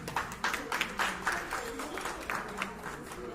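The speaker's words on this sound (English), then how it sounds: "Can I have a big round of applause, please?" An audience applauding at a ceremony honoring teachers: a short round of moderately quiet, irregular clapping from a modest crowd, fading slightly toward the end.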